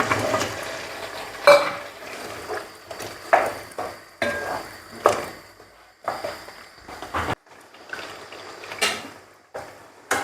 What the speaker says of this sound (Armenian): կարտոֆիլն եմ լցնում